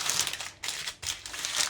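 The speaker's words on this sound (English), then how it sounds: "You want to get some parchment paper" Parchment paper crinkles and crumples close by in a few quick bursts with brief pauses between them, crisp and fairly loud.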